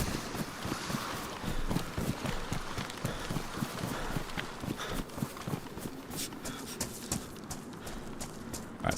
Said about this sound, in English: It intends to just be the sound of falling rocks, like little pebbles slipping off